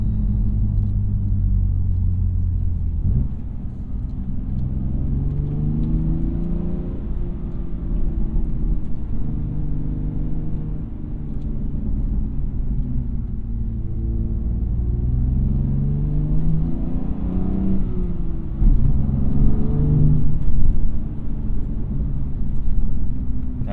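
BMW M2 Competition with the S55 engine driving on a back road, a continuous low exhaust drone that rises and falls gently with engine speed as the car cruises, with no talking over it.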